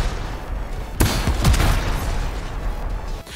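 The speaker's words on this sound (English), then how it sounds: "The combat is great, the gunplay feels beefy, and the explosions both visually and auditorially are awesome" Gunfire and explosions from the video game Anthem: a sharp blast followed by a rapid volley of shots and booming impacts, loud and up front with no talk.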